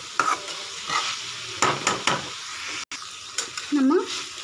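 Chicken fried rice with soy and chilli sauce gets stirred in a hot pan, a steady sizzle broken by several scraping strokes of the spoon, close and fairly loud with no talking.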